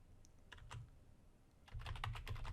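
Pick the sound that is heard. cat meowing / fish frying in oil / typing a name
typing a name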